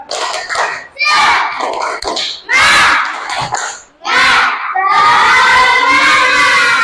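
Group of schoolchildren in a classroom repeating a rhythmic clapping chant (tepuk semangat), loud unison voices and claps in short phrases after a teacher's prompt, closing with a long collective shout.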